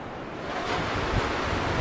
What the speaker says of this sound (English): We've got 90 to 100 km/h winds happening here at the moment.